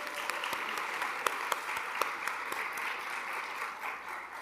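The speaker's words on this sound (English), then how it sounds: "So let's give them a round of applause." Sustained applause from the crowd at a class graduation ceremony, a steady bed of many hands clapping with a few sharper individual claps standing out, moderately distant and without talk.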